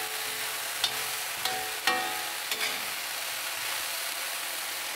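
Peppers cook in a cast iron wok with a soft continuous sizzle, broken by a few sharp metallic clinks of a utensil against the pan.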